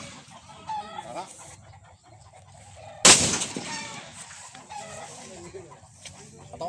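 Chickens clucking in a yard while people talk nearby, with one sudden loud sharp bang midway through that briefly drowns everything before the clucking and voices continue.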